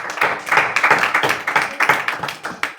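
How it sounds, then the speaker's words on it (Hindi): A small group at a night prayer Bible study claps together, a quick run of close, sharp hand claps lasting a few seconds. "दोनों तालियां बजाएं"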